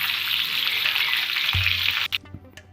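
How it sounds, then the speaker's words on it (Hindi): Onions fry with curry leaves in a pan, giving a steady loud sizzle that cuts off near the end, followed by a few soft clinks. "अब प्याज को हम 3 से 4 मिनट के लिए अच्छे से पकाएंगे।"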